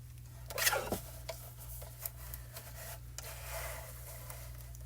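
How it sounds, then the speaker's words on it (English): A paper trimmer blade slides along the edge of a card, giving a quick close rasping scrape followed by light rubbing and handling noises in a quiet room. "I'm just going to grab my trimmer and trim that edge real quick"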